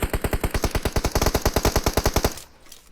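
Rapid automatic gunfire in a mobile battle royale shooter on the Livik map, a steady burst of about two dozen loud, evenly spaced shots that cuts off abruptly, leaving quieter game ambience.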